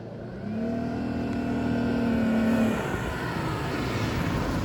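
A Jeep Gladiator towing a caravan through deep sand gives a steady, loud engine drone that rises under load for a couple of seconds and then eases back to a lower hum, with no voices.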